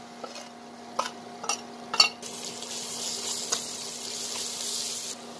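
Ginger garlic paste sautéing with onions in a pan, a spoon clinking and scraping in several sharp strokes before a steady soft sizzle takes over.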